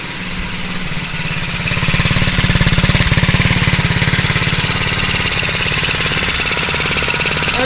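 A Honda Z50 with a big bore kit runs close up, its small engine firing in a rapid, choppy putter that rises a little in revs and then settles into a loud, steady rhythm, with no talking.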